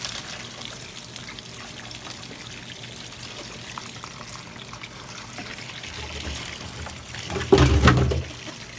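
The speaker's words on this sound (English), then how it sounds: "I'm going to turn the first valve on. Okay, turn the second valve on. And it fills up" Water pours and trickles into a homemade fluid bed sluice made from a Pepsi bottle once its valves are opened, a low steady flow that swells into a louder gush near the end.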